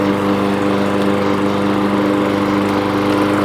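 A newly fitted engine on a Weibang lawn mower runs steadily and loudly with a constant droning hum, no voices present.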